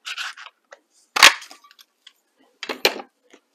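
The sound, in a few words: Label Me Fancy paper punch cutting a tab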